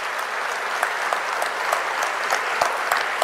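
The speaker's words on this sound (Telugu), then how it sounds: "వారిని అందరూ కూడా గట్టిగా చప్పట్లు కొట్టి మనస్ఫూర్తిగా అభినందిస్తే" Sustained applause from a conference audience at a World Telugu Federation gathering, a steady dense wash of clapping with scattered sharper claps throughout, fairly loud and without speech.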